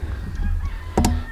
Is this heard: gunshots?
no